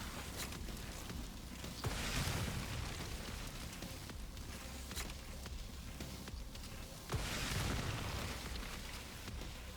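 An exploding zombie blows up in the Resident Evil Requiem survival horror game, with muffled booming bursts over a constant noisy wash of game ambience, heard at a moderate level and with no speech.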